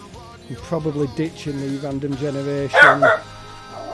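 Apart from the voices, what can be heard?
dog barking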